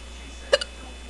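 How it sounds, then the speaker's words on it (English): A single sharp hiccup from a young woman, followed a beat later by a smaller second catch, close and clear against an otherwise quiet room. "God, I get the hiccups really bad now."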